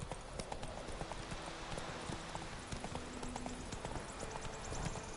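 Rapid, rhythmic hoofbeats of a galloping horse in The Witcher 3, continuous and fairly close, under a bed of game music and ambient noise.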